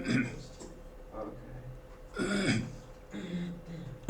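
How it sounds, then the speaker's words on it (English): A person clears their throat with a few short, rough, gravelly bursts, close and moderately loud, with pauses in between. "I'm trying to actually clear my throat."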